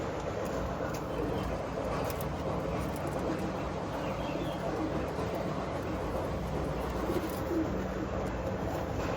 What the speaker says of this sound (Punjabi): ਕਰੋ ਚੈੱਕ ਬਈ ਵੱਡੇ ਕਬੂਤਰ